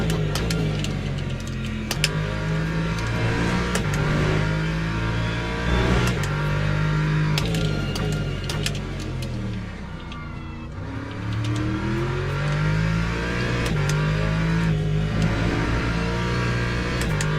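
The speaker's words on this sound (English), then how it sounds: "I'm not keen on the sound of the Corvette either" A Corvette GT3 race car in a racing video game drones with a loud, continuous engine note, rising and falling in repeated upshifts and downshifts as it laps, heard alone without speech.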